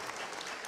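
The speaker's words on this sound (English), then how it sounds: "Please join me. We're applauding these students once again." An audience at the 2019 SDSU Georgia inaugural commencement ceremony applauds graduating students, a brief, dense wash of clapping from many hands.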